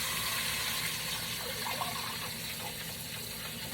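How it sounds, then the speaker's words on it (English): Water poured into a pot of rice, a steady broadband gush running without pause for a few seconds, close and moderately loud with no talking. "now I'm going to add the water."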